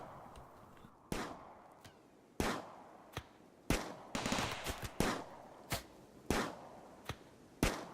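Sharp individual gunshots crack at irregular intervals over a low background in the colony game RimWorld, with a brief cluster of rapid shots in the middle, fairly close and distinct.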